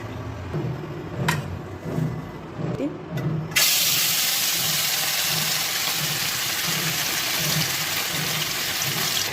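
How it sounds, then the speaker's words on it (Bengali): Rohu fish coated in salt and turmeric drops into hot oil, setting off a sudden burst of loud, steady sizzling after a few seconds of clatter and low kitchen sounds. "এখন লবণ হলুদ দিয়ে মাছটাকে ভাজবো"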